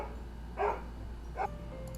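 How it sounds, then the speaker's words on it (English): A dog gives two short, moderately loud barks about a second apart over a steady low hum, with no talking. "My dogs are barking"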